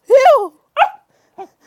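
Puppies yapping and growling in short bursts while playfully attacking: one long excited outburst, then two shorter yelps trailing off, close and fairly loud.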